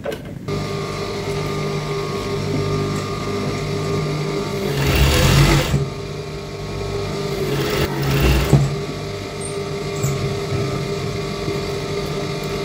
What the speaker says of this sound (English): You can top stitch, but I will use cover stitch on it as usual.